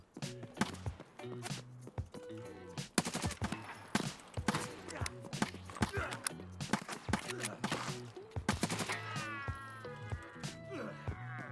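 SR-3M rifle gunfire in the shooter game Escape from Tarkov, close-quarters fighting: repeated sharp shots in quick bursts with clicks and footsteps between them, loud and near, no talking.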